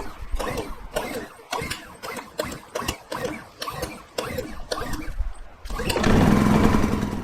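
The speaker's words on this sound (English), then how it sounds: "then it's finally time to pull the cord" A Champion 4500W inverter generator with the choke on is pull-started in a quick series of rasping cord tugs and brief sputters before the engine catches and runs at a steady, loud idle.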